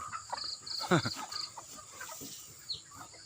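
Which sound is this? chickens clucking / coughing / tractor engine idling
chickens clucking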